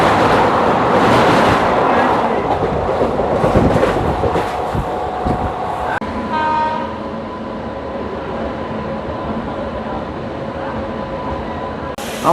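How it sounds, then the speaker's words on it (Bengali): The Kolkata-Digha Special Express, train 03161, rumbles and clatters loudly at first, then slows with a brake or horn tone and settles into a steady hum as it stands at Bagnan station. "আমাদের ট্রেন এখন বাগনানে এসে দাঁড়িয়েছে"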